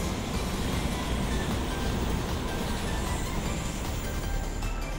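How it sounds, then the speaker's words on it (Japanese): Hanshin Railway train passing through Daimotsu station without stopping, a continuous loud rumble and rail rush filling the whole stretch with no voices. "また通過列車ですかね"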